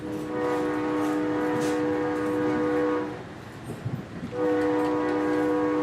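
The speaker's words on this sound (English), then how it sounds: "You're legitimately hearing a train sound in the background right now." A train sound effect rumbles through a wrestling broadcast, a steady horn-like chord with rolling rail noise that drops out briefly around the middle, then returns at full strength.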